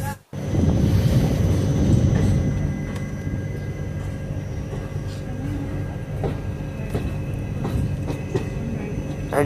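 Another train crosses while the Simhadri Express stands halted at Chagallu station. A loud, sustained rumble of wagons rolls past nearby, with faint clacks and a steady mechanical hum running throughout.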